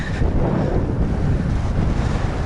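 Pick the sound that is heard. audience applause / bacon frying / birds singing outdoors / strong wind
strong wind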